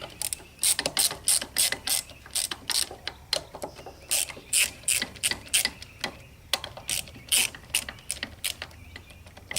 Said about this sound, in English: we'll take all these bolts out.